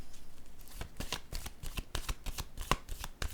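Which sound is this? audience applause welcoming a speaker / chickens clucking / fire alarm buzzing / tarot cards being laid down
tarot cards being laid down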